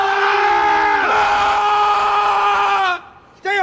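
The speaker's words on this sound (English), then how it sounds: "demonstrate a Marine Corps battle cry for this penny-waste" A Marine Corps battle cry yelled on command by a sergeant: one loud, sustained, throaty shout held for about three seconds, then cut off abruptly, followed by a brief short burst of yelling.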